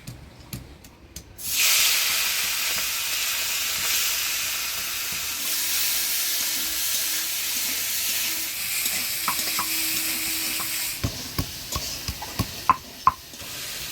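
Shrimp frying in hot oil in a pan, a steady broadband sizzle that starts abruptly after a brief quiet and holds close and loud, with a few sharp clinks near the end.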